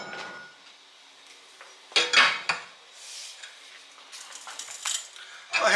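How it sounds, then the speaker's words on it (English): Metal clanks and scraping as a crowbar pries at a bent steel yard cart hitch held in a vise, irregular sharp knocks and grinding strains separated by quieter pauses. "Let's see if we can bend this thing back into something that resembles what it's supposed to be. I'm thinking crowbar."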